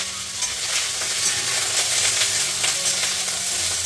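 Food fries in a pan, mostly covered, with a steady, loud, dense sizzling hiss that holds without a break throughout.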